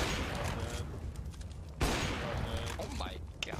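Gunshots in CS:GO, with rapid rifle fire crackling throughout, a sharp louder shot partway through, and a player's voice talking over the shooting.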